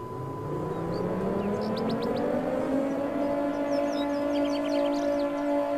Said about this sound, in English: That's an air raid siren.